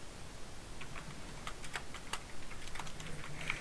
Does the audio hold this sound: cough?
no